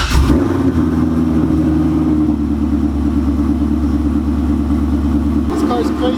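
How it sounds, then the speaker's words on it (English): A loud modified car with an aftermarket cam idles close by after starting, a steady deep rumbling drone with a lumpy, pulsing beat that runs unbroken for about six seconds. "This car's crazy loud, but I gotta let it warm up before I start to shift."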